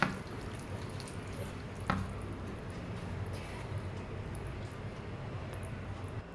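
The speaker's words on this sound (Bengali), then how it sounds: "পরিমাণ মতো পানি দিয়ে দিলাম আমি, খুব বেশি পানি লাগবে না।" Water pours steadily into a dough mixture in a home kitchen, a continuous low wash with one brief knock near the start, no voices.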